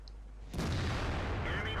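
An SU-100 tank gun fires in World of Tanks, a single heavy blast that cuts in suddenly after a quiet start and then rolls on as a loud, sustained rumbling echo.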